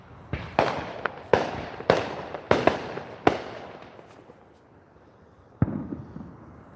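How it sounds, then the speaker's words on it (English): Fourth of July fireworks, a string of sharp distant booms and crackles spaced about a second apart, then a pause and one final burst. "I hope you were able to catch some of the fireworks."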